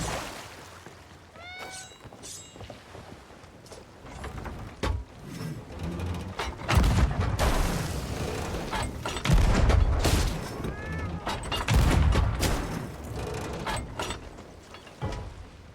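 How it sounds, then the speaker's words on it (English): Cannon shots fire in the Sea of Thieves video game, several heavy booms rolling out in loud bursts across the middle stretch. Creature cries, mechanical clanks and faint talk come and go between the blasts. "cannon shots to kill that thing"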